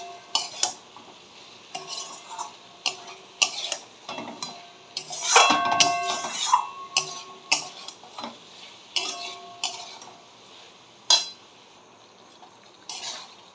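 A spoon stirring soybean curry in a pot with a splash of water, scraping and clinking against the metal in irregular bursts, close and fairly quiet, with one louder flurry midway.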